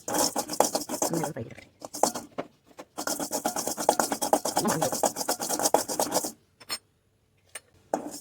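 Steady rasping, scraping strokes of spices being ground, repeated in quick rhythmic bursts with brief pauses, close and fairly loud, no voices.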